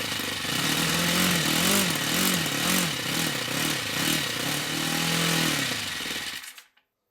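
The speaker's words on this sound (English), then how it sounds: "The difference in the sound of the engine was quite amazing." An old OS FS60 10cc four-stroke model engine running on freshly replaced main bearings, a fast, buzzy, evenly firing drone that wavers rhythmically in pitch, then cuts off abruptly near the end.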